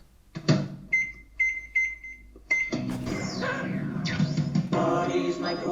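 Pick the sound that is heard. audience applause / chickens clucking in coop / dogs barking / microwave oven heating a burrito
microwave oven heating a burrito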